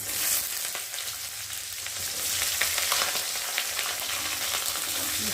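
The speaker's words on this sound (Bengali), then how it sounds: "একটু ভালো করে ভেজে দিই।" Chopped onion frying in a pan for muri ghonto gives a loud, dense, steady sizzle that holds without a break, with no voices over it.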